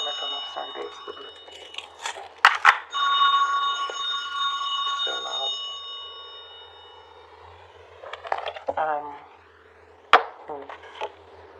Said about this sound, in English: Oh goodness, I forgot to turn my phone off.